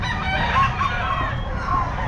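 A white kelso gamefowl rooster crows at a busy pet market, a loud, close, sustained call over constant crowd and market noise.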